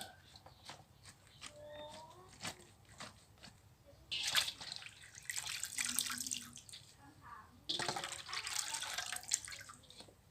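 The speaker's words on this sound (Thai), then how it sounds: "ไม่ใช่ว่ามือไม่ล้างเด้อค่ะเด้อ ล้างเรียบร้อย ล้างมือเรียบร้อย" Hands being washed under a running tap in a home kitchen while preparing a Thai-Lao dish of sour pickled greens, water splashing in two loud bursts between quieter dripping and faint clatter, no talking.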